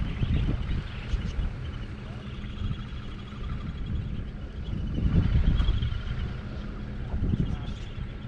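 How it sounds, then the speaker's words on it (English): Wind blows across an open outdoor gorge, buffeting the microphone with a continuous low rumble that swells in gusts around the middle and near the end. "A bit windy out here"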